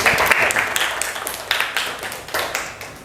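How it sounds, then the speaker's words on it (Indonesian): A classroom of students claps together in a lively burst of applause that lasts a few seconds, rising and falling in uneven waves. "Kasih tepuk tangan dong bulan Jaskia"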